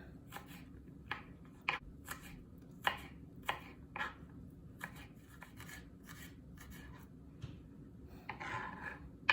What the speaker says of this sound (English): Just need to slice the garlic